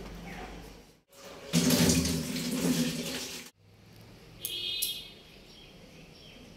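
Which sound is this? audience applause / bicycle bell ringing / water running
water running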